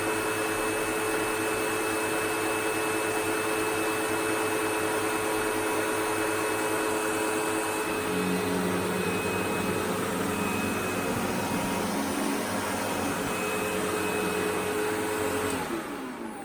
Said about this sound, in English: So I'm just going to carry on vacuuming